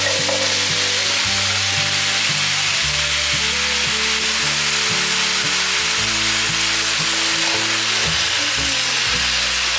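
Cabbage tossed in with softened shiitake mushrooms sizzles and hisses steadily in a hot wok, a loud, continuous frying roar with no voices, while low tonal music runs underneath.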